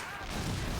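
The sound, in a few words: Panzerfaust shot explosion in a video game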